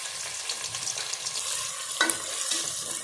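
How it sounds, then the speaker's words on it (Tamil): Onions crackle and sizzle steadily as they fry golden in a pan for chicken biryani, with a brief clink of a utensil stirring midway. "வெங்காயம் நல்லா பொன்னிறமாக பொறிஞ்சு வந்துருச்சு"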